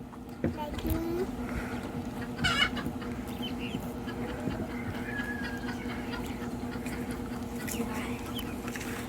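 Newly hatched ducklings peep in shrill little bursts over a steady low hum, with people talking quietly nearby.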